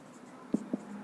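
Marker or chalk strokes on a board during a geometry lesson on circle angles, three short scratchy taps spaced about a fifth of a second apart, close and quiet.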